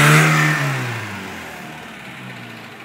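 A car with a 1.8 engine revs hard with the gas pedal floored. A loud, close rev surges at the start, then slowly falls away and fades over a few seconds, and no voices are heard.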